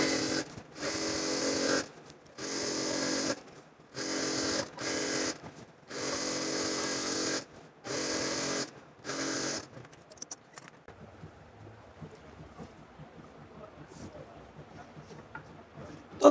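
A sewing machine stitches the edge of a six-panel petticoat in loud, regular bursts of rapid whirring separated by short pauses, then goes quiet with faint fabric handling.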